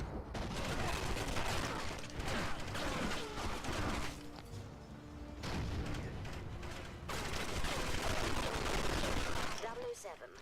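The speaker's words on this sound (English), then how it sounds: "After this, you can just fire these off to get rid of them." Gunfire in the shooter Agent Under Fire, dense volleys of shots and impacts in sustained bursts with short lulls between them, loud within the mix, while someone talks over the action.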